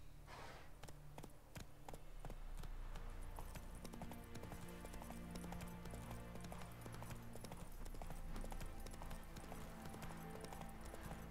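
Hoofbeats of the horse Roach in The Witcher 3, a quick steady clip-clop of galloping hooves, faint and continuous over soft outdoor ambience.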